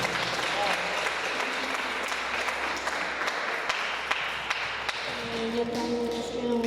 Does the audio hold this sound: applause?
yes